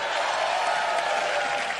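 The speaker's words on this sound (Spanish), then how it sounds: "Y un aplauso para ustedes" An evening audience at a public talk applauds, a steady dense wash of many hands clapping at once, filling the whole moment without pauses.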